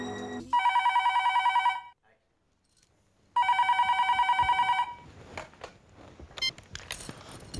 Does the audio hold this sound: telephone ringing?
yes